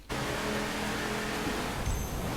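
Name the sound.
car accelerating in drag trial, The Crew video game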